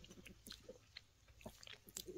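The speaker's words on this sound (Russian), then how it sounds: "Простите, я тут вам чавкаю" A person chewing food noisily close to the microphone in a garden, with wet smacking and crunching bites in an irregular rhythm and no speech.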